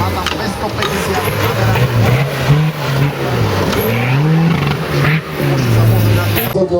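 A heavily modified Suzuki Vitara 4x4 off-road race car, around 250 horsepower, drones steadily with its engine rising and falling in pitch as it revs, loud and continuous, while a voice talks over it.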